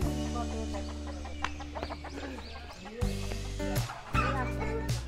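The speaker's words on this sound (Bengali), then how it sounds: "মুরগির সাথে খেলা করছে।" Chickens clucking around an old cowshed-like outbuilding in a typical village in Itna, Narail, with several overlapping clucks and short squawks at close range, no talk.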